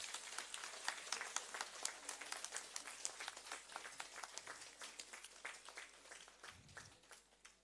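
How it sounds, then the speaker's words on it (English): Sustained applause from an audience at a dance debut recital, dense steady clapping that carries on for several seconds without any talking. "They need a huge round of applause from you all."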